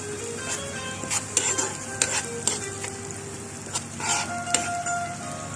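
Chicken pizza topping with onion and vegetables stirred and fried in a pan, a steady sizzle under repeated scraping and clinking strokes of a utensil against the pan, close and moderately loud, no talking.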